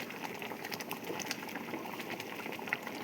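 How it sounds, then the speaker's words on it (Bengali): Hog plum chutney bubbles in a pot on the stove: a continuous soft boiling burble with small pops and splutters at a moderate, close level, and no speech. "দেখো কত সুন্দর ফুটছে।"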